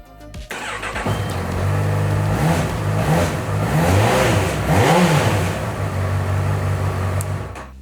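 A motorcycle engine, just repaired after throttle position sensor wiring work, idles then revs up and down in several repeated throttle blips, loud and close, with no talk.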